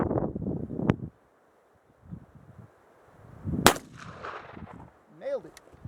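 A Kentucky rifle, a CVA Mountain Rifle .50 caliber, fires one sharp, loud gunshot outdoors with a brief echo, following a short burst of talk. Wind noise and a faint metallic sound trail after the shot.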